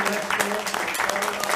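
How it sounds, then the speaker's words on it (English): Convention fans at a horror convention panel with heavy metal drummer Vinny Appice clap and cheer in a short burst, with voices and loud hand claps mixed together close by. "Crypticon, give Vinny Appice a good round of applause"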